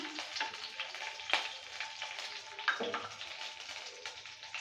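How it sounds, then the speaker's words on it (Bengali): Black cumin seeds and chopped green chillies fry in oil while being stirred, a soft, close sizzle with intermittent scraping and a couple of sharper knocks from the spatula. "কালো জিরেটা দেওয়ার পর ভালো করে একটু নেড়েচেড়ে নিয়ে ভেজে নিচ্ছি আর দিয়ে দিচ্ছি দুটো লঙ্কা কুচি"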